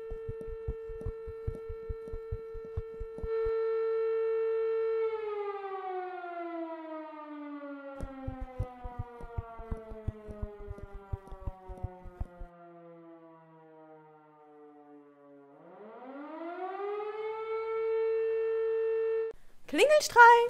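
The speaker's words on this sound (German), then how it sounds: "Wir folgen jetzt erstmal der Sirene." A siren wails with a loud steady tone that slides slowly downward, then sweeps back up to its original pitch. Sharp clicking ticks come and go underneath, and a brief noisy burst closes the sequence.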